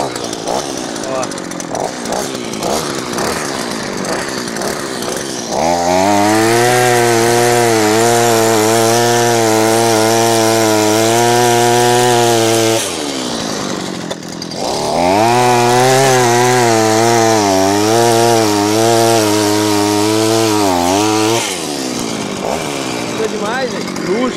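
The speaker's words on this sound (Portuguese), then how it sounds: "Vamos mostrar o pessoal na prática como é que funciona? Furar numa carreira no meio aqui." A motorized soil drill bores holes in a row of a coffee plantation, its engine roaring loud and close in two long bursts with a short pause between, with people talking nearby.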